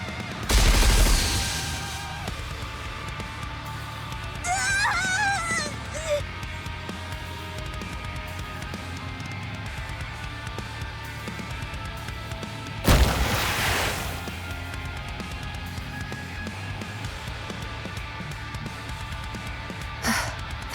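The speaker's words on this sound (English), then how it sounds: "Fire the anti-aircraft guns." Anti-aircraft guns firing in the game Goddess of Victory NIKKE: loud booming bursts at the start and again later, with rumbling gunfire between them and a brief voice in the middle.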